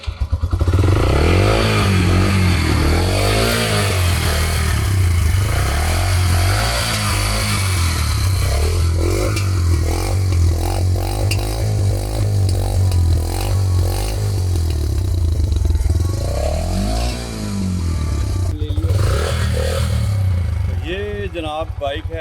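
A 2026 Yamaha YBR 125G motorcycle engine starts and idles up close, loud and steady, then revs up and down repeatedly in rising and falling swells with a mechanical clatter underneath.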